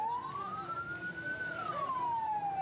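An ambulance siren stuck on a road blocked by protesting truck drivers wails in one long, clear rising and falling sweep over steady traffic rumble, fairly distant and not loud.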